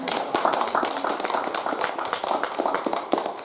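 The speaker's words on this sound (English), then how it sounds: "Give her a round of applause." An audience at a short talk on stress gives steady, dense applause, with many hands clapping at an even level throughout and no clear voices over it.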